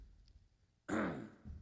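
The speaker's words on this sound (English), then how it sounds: "Forgive me for coughing as much." A single cough in a church worship service, one short harsh burst up close after a quiet moment, followed by a faint breath.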